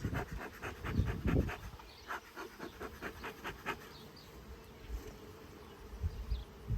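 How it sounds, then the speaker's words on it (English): A dense, low buzzing of many honeybees in a full hive fills the space close by, swelling in pulses and then settling to a quieter hum. "this hive is pretty full of bees"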